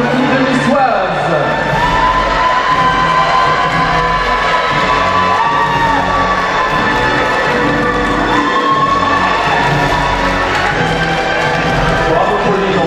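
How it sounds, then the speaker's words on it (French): A pageant audience at the Miss Oise 2023 results cheers and whoops loudly and continuously, a dense crowd roar with shouts rising over it throughout. "Applaudissements pour la troisième Dauphine de Niçoise."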